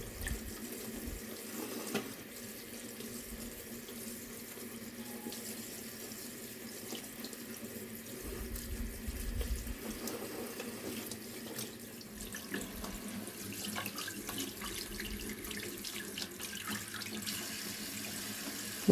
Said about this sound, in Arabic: هغسلها بقى كويس جدا دلوقتي واسيبها تتصفى